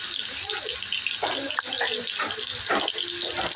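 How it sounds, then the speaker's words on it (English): Water poured from a container into a dog bowl indoors, a steady running splash lasting the whole moment, fairly close, with faint household sounds and a little background voice mixed in. "I'm gonna go and pour some water"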